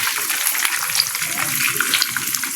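Chicken frying in very hot oil on a stove, a loud continuous hiss and crackle with constant small pops, close and dense throughout.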